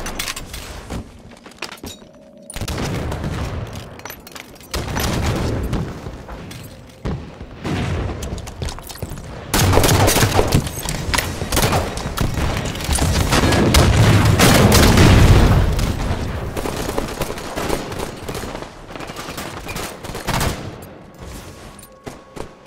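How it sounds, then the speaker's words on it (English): Rocket launcher blasts and gunfire in a multiplayer shooter tournament match come as loud, dense bursts of booming explosions and rapid shots, swelling and fading in waves over a continuous battle din with no talking. "Rocket launcher ready"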